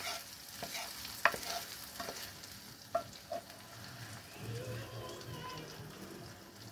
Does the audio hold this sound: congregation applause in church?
no